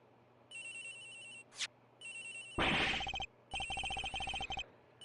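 A telephone rings in bursts in the Ace Attorney Investigations game, an electronic bell trill repeating three times, with a brief sweeping chime and a louder rustling burst between rings.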